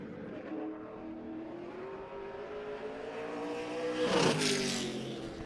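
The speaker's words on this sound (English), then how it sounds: "Next up in car number 6 out of Milton, home of the Redmen, Cody Hubrad." A race car runs a timed qualifying lap at Jefferson track during the season opener, its engine droning steadily with rising pitch and swelling louder as it nears and passes, then dropping away. No talk over it.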